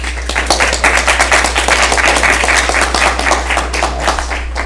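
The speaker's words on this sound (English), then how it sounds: "Another round of applause, please." A crowd applauds after final team presentations, a loud, steady rush of many hands clapping over a low constant hum.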